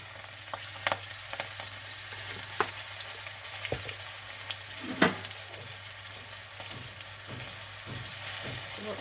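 Green chili and black cumin tempering in hot oil crackle and sizzle nearby, with sharp pops and utensil knocks scattered over a steady frying hiss and a faint low hum.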